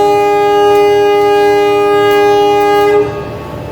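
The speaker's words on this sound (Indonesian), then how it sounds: "Berangkat kereta api Jakarta Tingkir dari stasiun Kutoarjo." A CC 203 diesel locomotive sounds a loud, steady multi-tone horn blast for about three seconds as a Jakarta–Tingkir train departs Kutoarjo station, Indonesia, before the horn cuts off and fades to low rumble.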